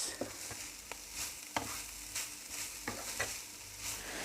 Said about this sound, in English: add in the onion and give this a good mix